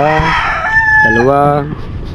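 A rooster crows loudly and close by, a long drawn-out call, with a hen clucking briefly at the start.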